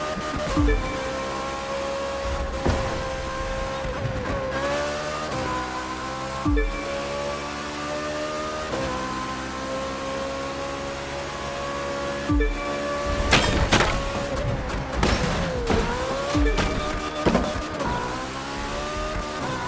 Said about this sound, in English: Those engines are gonna make for a loud wake-up call if anyone's sleeping in this resort area today.